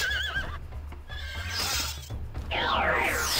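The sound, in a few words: unicorn neighing in video game Heroes of Might and Magic 2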